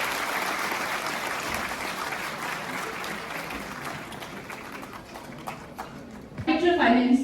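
An audience at a World AIDS Day ceremony in Jammu claps steadily in a dense, sustained round of applause that gradually thins, then swells louder again at the very end with other sounds mixed in.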